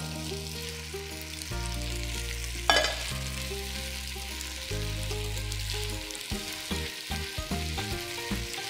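Beef sizzles as it is stir-fried in a hot wok for Cantonese dry-fried beef ho fun, a steady frying hiss running under louder background music.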